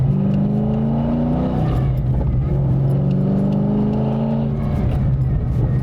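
A Nissan Skyline GT-R fitted with a UniClutch, driven at moderate pace on a racetrack: a loud, steady engine drone heard from inside, pitch rising and settling with gentle acceleration and gear changes, no talk.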